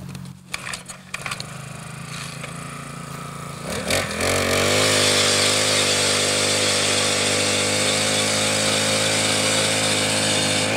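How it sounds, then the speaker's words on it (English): An Eskimo propane ice auger drilling through lake ice while ice fishing, sputtering and clattering at first, then catching and settling into a loud, steady, continuous engine drone close by. "So this is an Eskimo propane auger."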